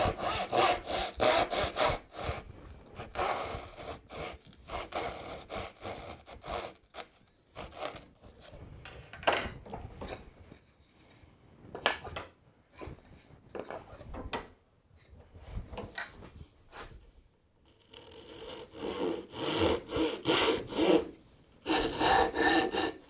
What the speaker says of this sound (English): If you don't have a crosscut saw, you can use your dovetail saw for this, but I've got a crosscut saw here.